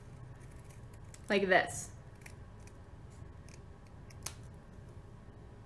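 Scissors snipping paper for an arts and crafts project, a single crisp close cut of a few rapid crunches, with quiet background hum and a voice speaking briefly.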